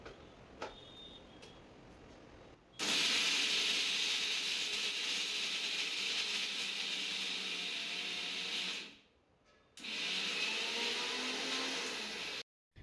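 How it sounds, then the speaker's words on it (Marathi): A mixer grinder runs dry, grinding fennel, coriander, cumin and salt into a masala for stuffed brinjal bharit, giving a loud, steady whirring roar that stops briefly and then starts again. "त्यामध्ये जिरं आणि मीठ टाकायचं आहे आणि मिक्सरला हे फिरून घ्यायचं आहे"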